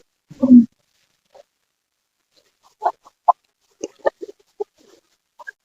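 A few short clucks and squawks from chickens at a village market, sparse and irregular, separated by quiet gaps.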